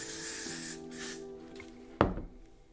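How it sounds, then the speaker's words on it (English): Gotta Be glue spray hisses in a steady burst onto the forehead area of a lace wig during an install, followed by a soft thump. "I'm going to go in with some Gotta Be glue spray."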